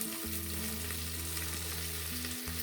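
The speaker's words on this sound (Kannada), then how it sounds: "ಇವನ್ನೆಲ್ಲ ಚೆನ್ನಾಗಿ ಫ್ರೈ ಮಾಡ್ಕೊಳ್ಳಿ" Green chillies and vegetables fry in hot oil for brinjal sambar, a steady, close, dense sizzle that continues without pause under soft background music.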